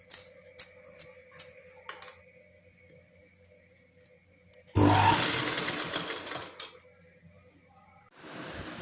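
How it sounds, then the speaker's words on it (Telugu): A sewing machine runs a steady, loud whirring burst as it stitches the middle layer of a child's ruffle frock, framed by a few light clicks before and a rougher rise at the end. "మిడిల్ లేయర్ స్టిచ్ చేసుకుందాం."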